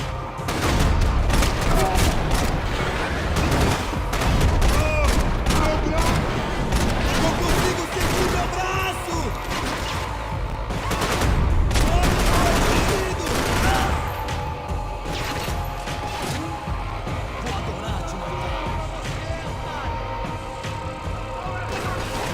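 FAL rifle gunfire in the video game Max Payne 3, dense loud bursts of rapid shots and crashing impacts layered over game music, continuing throughout with a voice talking over parts of it.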